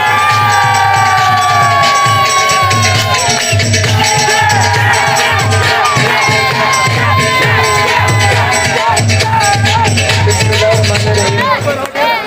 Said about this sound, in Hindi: भरपूर तालियों की आवाज में